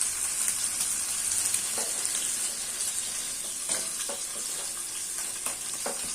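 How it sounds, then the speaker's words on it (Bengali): Prawns fry in hot oil in a pan, a steady bright sizzle with occasional stirring scrapes and spatters over about six seconds. "প্রথমে আমি চিংড়ি মাছগুলো ভেজে নিচ্ছি"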